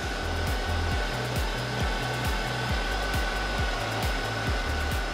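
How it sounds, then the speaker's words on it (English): A DI 350 wood processor splits logs into firewood with a steady mechanical roar, and a regular pulse of low thumps repeats about every half second as the machine works. "How smoothly the DI wood processor works."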